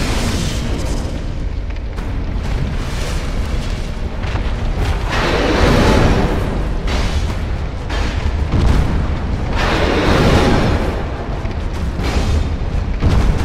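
A loud, sustained explosion rumbles through Dark Souls 2, with heavy booming bursts rolling on for over ten seconds, one blast swelling into the next without pause.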